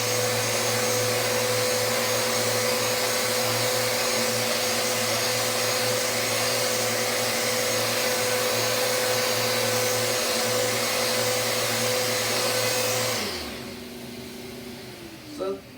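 A Festool Rotex RO 90 sander with 150 grit runs steadily on Heywood Wakefield wooden school chair seats, a loud continuous whine with a steady hum that holds for about thirteen seconds before the motor cuts off and spins down.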